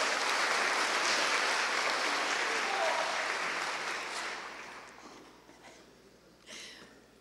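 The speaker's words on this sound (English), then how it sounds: "Give him a round of applause." Audience applause at a security conference keynote, a dense wash of clapping that holds steady for several seconds and then gradually thins and fades out, with a few scattered claps near the end.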